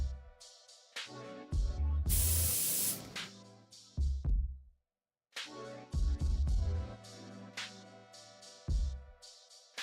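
An airbrush sprays paint onto a scale model in a single hissing burst of about a second, set against louder background music.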